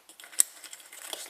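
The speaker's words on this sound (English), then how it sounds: "Now we just use a oil filter chain to" An oil filter chain wrench loosening the fuel filter on a 2.2 diesel Honda Accord gives a handful of faint metallic clicks and one sharp ratchety tick, close and quiet.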